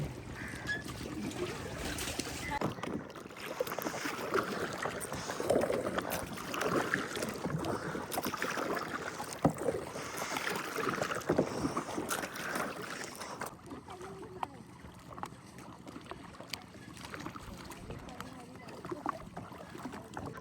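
Paddle boat out on the lake at Tapola near Mahabaleshwar, with steady water lapping and churning from the pedals, beneath continuous voices talking throughout; the scene grows quieter toward the end.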